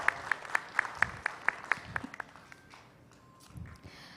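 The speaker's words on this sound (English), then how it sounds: "Can you have a huge round of applause for Dr." Audience at a hospital stroke symposium in Greater Noida claps in a brief burst of sharp, rhythmic hand claps that quickly thins out and fades into quiet room murmur.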